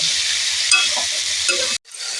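Tamarind and salt frying in a pan for pickle, a steady close sizzle with scraping stir strokes, cutting off briefly near the end before resuming.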